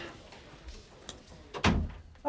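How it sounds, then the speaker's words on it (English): A door shut indoors lands as a single solid thud near the end, standing out from a quiet room background with faint murmuring. "Shut the door, Matthew."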